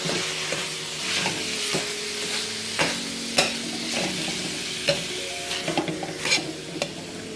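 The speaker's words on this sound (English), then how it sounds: "I'm gonna add in our meat. And I'm gonna kind of mix that up like that." Ground meat frying with sautéed onions in a pan, a continuous close sizzle with intermittent scrapes and clacks as it is stirred and broken up, no voices.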